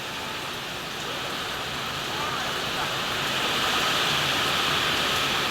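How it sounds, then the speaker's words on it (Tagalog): Heavy typhoon rain and strong wind pounding outdoors, a dense, constant roar of downpour that swells slightly louder over time with no one speaking. "Grabe po talaga ngayong kalakas ng hangin at ulan dito."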